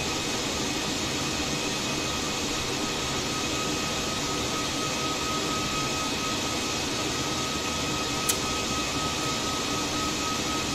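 Airbus airliner engines in a flight simulator game, a constant loud jet roar and whine droning evenly throughout with one brief click, no voices.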